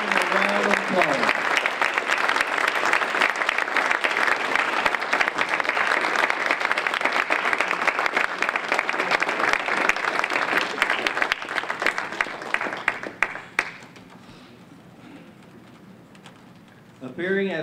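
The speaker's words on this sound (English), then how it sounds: "Round of applause." Applause from a seated audience at a state oratorical contest finals as contestants come onto the stage, a dense steady clapping that fills most of the stretch before fading out, with a brief voice near the end.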